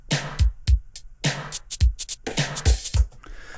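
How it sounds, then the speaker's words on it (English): A punchy Linn drum machine pattern: booming kicks alternating with crisp snare and hat hits in a tight, repeating rhythm, dry and upfront. "we started off with a little pattern on the Linn drum"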